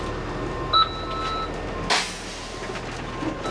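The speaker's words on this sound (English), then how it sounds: "I'm going to apply the parking brake to make sure it stops properly" A school bus rolling slowly forward during a pre-trip brake test, a low engine rumble with a short high beep, then a sharp hissing burst of air as the parking brake is set.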